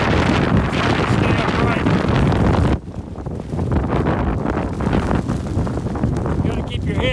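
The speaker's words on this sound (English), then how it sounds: "The wind's maybe 45, 50 miles an hour right now." A roaring mountain wind, gusting around 45 to 50 mph, batters the microphone with dense, loud buffeting that drops off briefly partway through before surging again, and a person speaks a few words over it.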